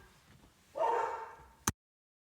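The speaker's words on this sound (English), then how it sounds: "I heard him bark, and there he was, in the yard." A dog in a yard gives one short bark, then a single sharp click before silence.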